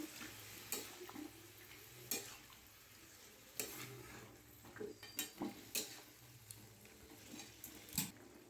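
Vegetables with a little added water and fried peanuts are stirred in a pot for a Bengali labra mixed-vegetable curry. The scrapes and knocks are faint and sparse, spread over a low, quiet background with no talking.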